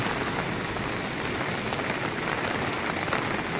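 Steady, dense rain pours down by a flooded river, pattering continuously on surfaces with no voices, a constant wash of drops throughout.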